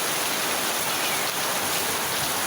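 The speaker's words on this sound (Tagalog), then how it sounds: "Naampias ang ulan dito." Heavy rain pours steadily in a dense, continuous hiss, close and loud throughout with no pause.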